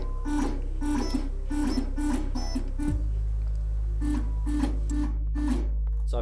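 A vinyl cutter plotter's carriage travels sideways in a series of rhythmic stepping whirs over a steady low motor hum, which drops in pitch partway through, close and mechanical with no voices.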